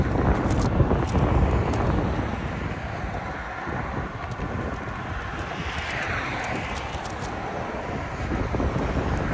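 Wind buffeting the microphone in a continuous low rumble, gusting slightly stronger at the start and end, with no voices.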